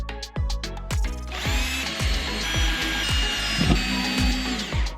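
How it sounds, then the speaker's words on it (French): A power drill drives screws to fasten the lid onto a homemade energy-free oven, giving a series of short, close whirring bursts with a sustained high whine in the middle. "Je vais visser ça par-dessus."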